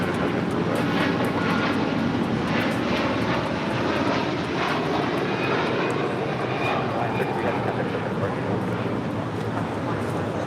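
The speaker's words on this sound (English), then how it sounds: "This is Hawaiian Airlines Flight 33 taking off to Kahului on an A330-200" A Hawaiian Airlines Airbus A330-200 takes off from LAX, its engines a loud, steady roar that fills the whole stretch without letup, with a faint voice underneath at times.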